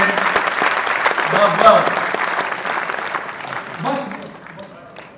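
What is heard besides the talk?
audience applause at a Hindi poetry recital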